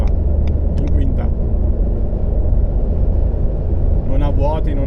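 A Renault Captur with a 1.0 TCe engine running on LPG pulls hard in fifth gear to overtake a truck at about 112 km/h, a steady loud engine and road rumble from inside the cabin, with someone talking over it.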